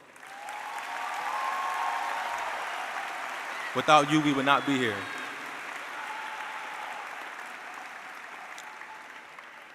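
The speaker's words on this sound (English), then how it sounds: "Let's take a moment to give every teacher, every school official, all the parents and family members a round of applause." A graduation ceremony crowd applauds in a steady, moderately distant wash of clapping that rises and lingers, while a speaker talks briefly over it partway through.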